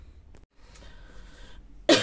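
A woman coughs once, a short loud broadband burst at the very end, after a quiet stretch of low room sound.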